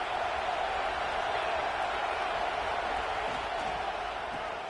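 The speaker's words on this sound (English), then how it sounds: "This crowd knows when to bring it." Broadband stadium crowd roar from a College Football 26 game, a steady, dense wash of cheering that holds at an even level throughout without breaks.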